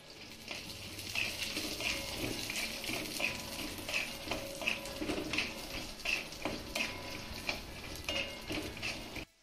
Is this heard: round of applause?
no